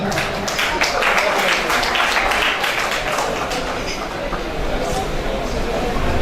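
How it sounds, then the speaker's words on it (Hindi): Audience applause rings out at a Pakistani mushaira poetry gathering in Layyah as a poet is called up for an award: dense, continuous clapping that stays loud from start to finish. "भरपूर तालियों में जी वड़ा खान साहब।"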